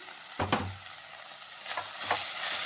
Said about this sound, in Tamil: இந்த மாதிரி கிளறி கொடுத்துக்கலாம்